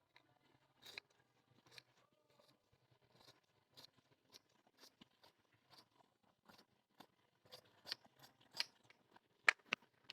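Fabric scissors cut cloth for the front-open pieces of a size 34 princess cut blouse, giving quiet, irregular snips that come in scattered bursts and grow sharper and louder toward the end.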